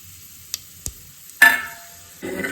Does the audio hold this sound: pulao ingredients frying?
yes